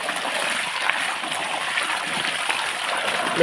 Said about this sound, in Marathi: हा पाईप फुटेल आहे बघा.